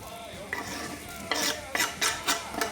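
Diced onion tipped into a pan and stirred, a soft sizzle broken by several sharp scraping strokes of a utensil against the pan, close and fairly loud.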